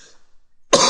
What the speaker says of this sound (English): Shoot, yeah, I keep coughing.